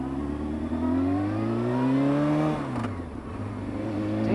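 Motorcycle engine revving up through the gears with a hard, abrupt shift, rising pitch dropping sharply at the change and then climbing again, loud and close with steady wind and road noise.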